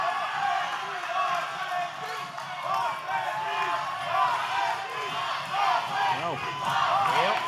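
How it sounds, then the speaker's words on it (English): Wrestling crowd at a live OVW event chanting in unison, a loud, steady roar of many voices with rhythmic rises and falls throughout. "as the crowd chants boss baby now"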